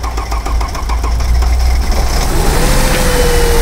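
A Mercedes car engine runs steadily up close, a loud continuous mechanical drone with a rising whine near the end and no voices.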